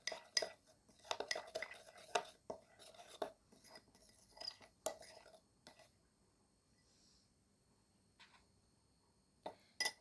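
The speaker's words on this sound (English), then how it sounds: "Then add half teaspoon of baking soda and mix the dry ingredients together" Dry corn starch and baking soda stirred with a spoon in a bowl, giving light clinks and scrapes in uneven bursts, louder early on and then thinning to near quiet before a couple of final taps.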